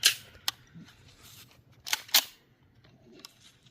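A TP9 submachine gun firing quiet 147-grain Federal rounds, heard as a few sharp, suppressed-sounding cracks spaced irregularly over a few seconds, fairly faint and with no speech between them.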